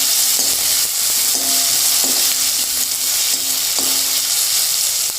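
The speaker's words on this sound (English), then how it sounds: "I'm going to add in the green chilies and the chopped onion. Saute this for a while." Green chilies and chopped onion sautéing in a pan for honey chilli potato, a steady loud sizzle with occasional stirring scrapes and clinks of a utensil, no voices.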